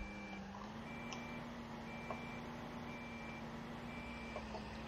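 A tractor in Farming Simulator 2015 reverses to hitch a pickup attachment, emitting a steady run of evenly spaced high reversing beeps over a continuous low engine drone.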